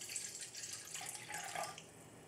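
Water being poured into the bottom of a mixer bowl while making Neapolitan pizza dough, a steady splashing pour that runs on for about two seconds, close and alone with no talk.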